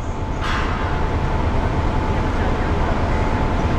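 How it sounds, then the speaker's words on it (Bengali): Santragachi-shed WAP-4 electric locomotive arriving at a station, a steady, loud broadband rumble and rolling roar that holds evenly throughout, with a brief hiss near the start. "এই হচ্ছে আমাদের লোকোমোটিভ ঢুকছে সাঁতরাগাছির লোকোমোটিভ ওয়াপ 4।"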